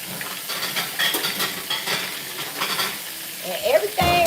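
Floured chicken fries in grease on a stovetop for smothered fried chicken, giving a steady close sizzle and crackle with stirring scrapes and a sharper hiss near the end.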